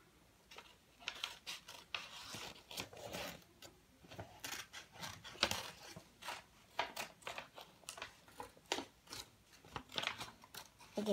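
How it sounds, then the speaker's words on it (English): Scissors snip through paper in a quick, irregular series of crisp cuts, close and fairly quiet, with faint rustling between snips. "Or it's out with the scissors."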